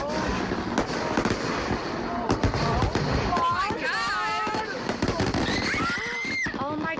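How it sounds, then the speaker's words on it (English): Fireworks going off in a basket during played-back footage, a rapid series of sharp cracks and bangs with crackling bursts and whistles, loud and busy, while people shout and talk over it. "Is it the firework explosion?"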